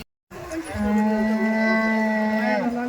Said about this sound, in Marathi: एक एचएफ गाय आहे, एक गावरान गाय आहे